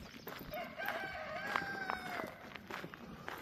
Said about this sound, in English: And I see a rooster on the tracks.